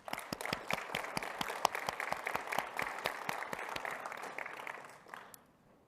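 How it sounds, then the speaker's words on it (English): Audience applause at an Adobe Substance 3D keynote at GDC 2025, sharp distinct claps from a modest crowd that hold steady, then thin out and fade near the end. "Please give yourself a round of applause."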